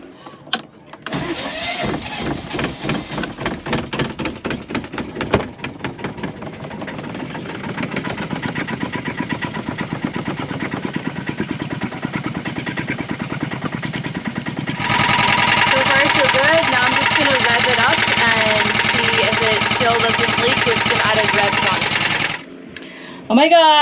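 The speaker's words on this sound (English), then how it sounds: "Oh my god, I have a functional engine again." A repaired sailboat engine cranks and catches, then runs at a steady, loud idle. Its rhythmic mechanical chugging continues until it cuts off near the end, and a person talks over it.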